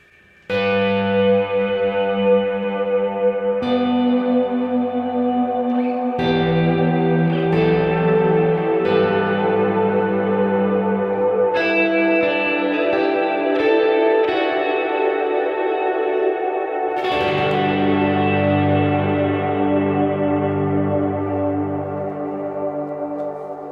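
Ambient electric guitar played through a Kemper with two reverbs stacked, slow sustained chords and ringing notes blooming into long washy tails and echoes, dense and continuous with no voices.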